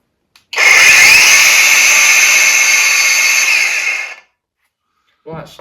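A cheap angle grinder starts with a sharp whine, runs loud and steady for about three and a half seconds, then cuts off and spins down, with a brief voice after.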